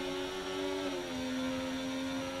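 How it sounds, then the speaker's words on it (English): A Ferrari Formula 1 car engine in the F1 24 racing game screams at high revs, a strong buzzing tone that drops in pitch as it shifts gear, steady and close, with no talking. "Why does this Ferrari engine sound so weird?"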